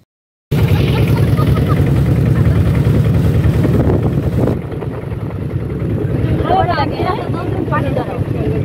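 A boat ride on open water, with steady engine or water rumble and wind buffeting the microphone, and voices talking faintly over it toward the end.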